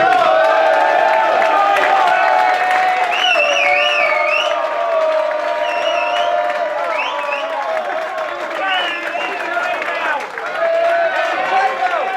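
Guests at a Biggleswade FC awards dinner in a hall clap and cheer loudly, with whoops and shouting voices riding over sustained applause throughout.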